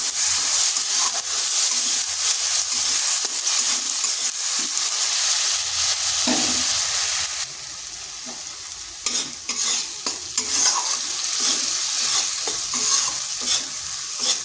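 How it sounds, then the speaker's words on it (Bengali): Spice paste with turmeric sautés in hot oil for a gathi kochu (taro) dish, giving a continuous close sizzle broken by scraping strokes of a spatula stirring the pan, with no voices. "এটাকে বেশ কিছুক্ষণ কষে নিলাম"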